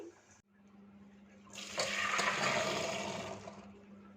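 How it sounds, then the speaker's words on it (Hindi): Boiled chickpeas drained after cooking, water pouring out in a steady rushing splash that starts after a brief pause and runs for about two seconds before tapering off, close and fairly loud. "इन्हें ड्रेन कर लेते हैं, अच्छी तरह गल गए हैं।"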